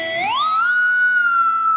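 Distorted electric guitar harmonic, the fretted string brushed then bent so the pitch glides upward and sustains as a bright, singing tone, alone and fairly loud.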